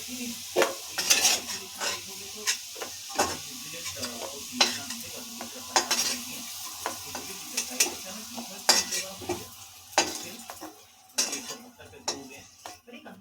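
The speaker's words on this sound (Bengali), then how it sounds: "তেলে দিয়েছি জিরা সম্বারা, দুটো শুকনো লঙ্কা," Cumin seeds and two dried red chilies crackle in hot white cooking oil, with frequent clinks of a spoon or utensil against the pan over a steady sizzle, close and moderately loud, no talking.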